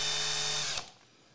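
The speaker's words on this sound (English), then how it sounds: "it'll engage and drill a hole" A small power drill boring a small hole in wood for a wooden hinge box whirs steadily at high speed, then winds down abruptly and stops, leaving near silence and a faint click.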